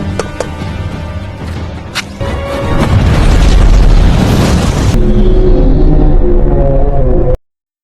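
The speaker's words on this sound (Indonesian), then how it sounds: "Namun, momen damai itu hancur oleh ledakan." A loud, sustained explosion from the film Kong: Skull Island builds from sharp cracks into a heavy roaring blast with deep rumble, then cuts off abruptly.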